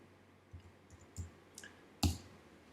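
A few sparse computer clicks and key taps while adding an attribute to a cabinet component in design software, faint and close, with the last click noticeably sharper and louder.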